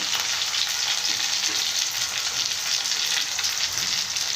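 Bajji chillies and tomatoes sizzle in a pan with a steady, dense, crackling hiss that runs unbroken throughout at close range.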